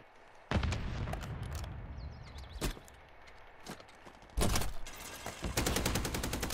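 Bursts of turret gunfire in a multiplayer shooter game, loud close volleys starting abruptly, pausing, then resuming with sharp repeated cracks.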